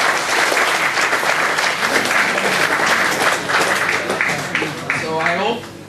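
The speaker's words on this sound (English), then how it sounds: "So give a big round of applause for them." Audience applause for panel members at a campus recruitment drive, sustained loud clapping filling the room with talk running underneath before it tapers off at the end.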